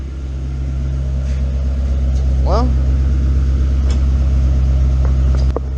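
Car exhaust fitted with catbacks and mufflers, a loud steady low rumble from close by that holds throughout, with a person speaking briefly over it.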